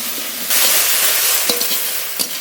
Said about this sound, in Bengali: লবণ স্বাদ মতো হলুদ গুঁড়ো পরিমাণ মতো এবার একটু কষিয়ে নেবো